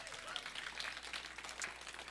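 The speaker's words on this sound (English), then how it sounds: "Can we give Jesus applause for that?" Scattered clapping from a church congregation during a sermon about Jesus as healer, quiet and somewhat distant, with individual claps audible over a brief stretch.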